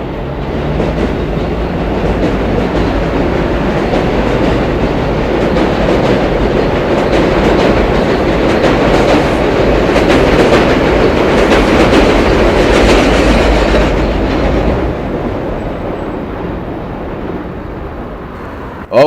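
A Long Island Rail Road train rumbles past on elevated tracks in Amityville, a loud, close, continuous roar with rhythmic wheel clatter that builds, holds, then falls away sharply near the end as the cars clear.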